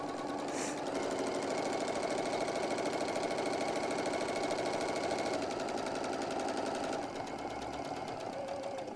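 A sewing machine stitches a hobo bag in one continuous fast run, a close, even, rattling whir that eases slightly near the end, no voices.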